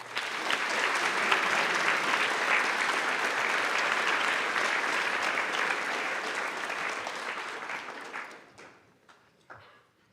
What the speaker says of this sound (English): we'd like to have a round of applause for the sponsors